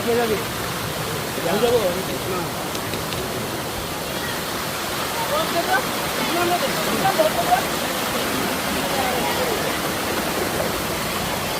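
Ladai waterfall in Bangladesh, with water dropping from above into a pool, makes a steady, broad, loud roar that fills the whole stretch, close by and unbroken.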